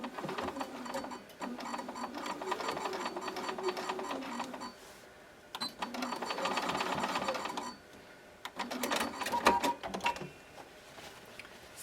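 A sewing machine runs in three bursts of rapid mechanical stitching while an inseam pocket is sewn, each run lasting several seconds and separated by short pauses, close and steady with no talking.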